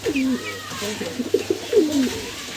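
High-level flying pigeons in a loft coo nearby in low, rolling, repeated calls, with a person talking faintly in the background.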